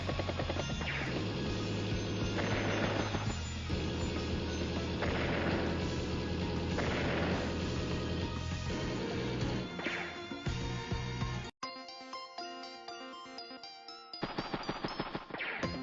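Tank and artillery attack from the video game Advance Wars: Days of Ruin, a loud, dense stretch of game battle sound effects with repeated blasts and rattling fire over music, breaking off sharply near the end into a brighter musical passage.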